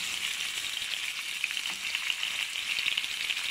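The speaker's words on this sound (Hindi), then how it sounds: "ये ऑयल गर्म हो गया, अब इसमें चिकन डालेंगे।" Chicken sizzles steadily after being added to hot oil for a karahi, a dense, even frying hiss that carries close and alone for a few seconds without pause.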